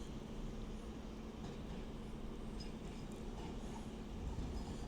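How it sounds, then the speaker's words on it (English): An LNER 225 set running from Leeds to London King's Cross arrives at Doncaster station, heard as a steady low rumble and rolling drone that holds at an even level throughout with no voices. "The next train to be coming in will be a 225 set for LNER running from Leeds to London King's Cross"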